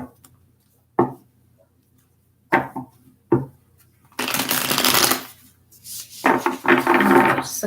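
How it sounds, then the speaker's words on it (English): Tarot cards handled and shuffled close up: a few sharp single taps and flicks, then two longer riffling bursts of cards shuffling, in a quiet room with no talking. "Just a couple more shuffles here for Leos."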